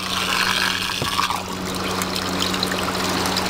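Small pump circulating water inside a Rubbermaid tote of a DIY greenhouse swamp cooler, a continuous close trickle and splash with a low steady hum beneath, even and unbroken.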